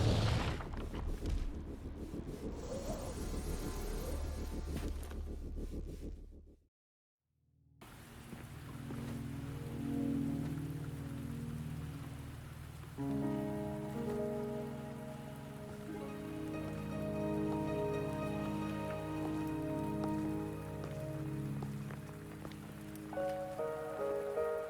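Steady rain patters down in the video game Wuthering Waves, a dense wash broken by a brief silent gap, then continuing under a low sustained musical drone with soft tonal layers.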